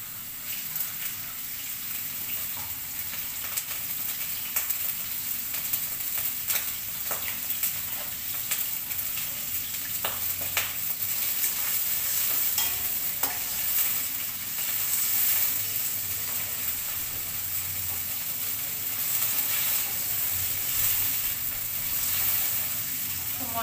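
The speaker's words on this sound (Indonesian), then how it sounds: "Goreng dulu ya." Salted squid frying and being stirred in a pan in a home kitchen, a continuous crackling sizzle with scattered sharper pops and scraping stirs running steadily throughout, fairly close, with no talking.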